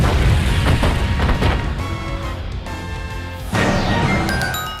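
A bomb explosion in the Hyrule Warriors video game: a heavy boom followed by crashing blasts and a rushing swell, loud and close, with chiming tones ringing out as it fades.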